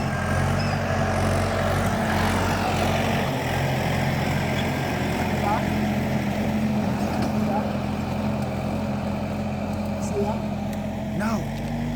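A heavy diesel tractor engine drones steadily nearby at a constant low pitch while plowing a field, with muffled voices mixed under the continuous rumble.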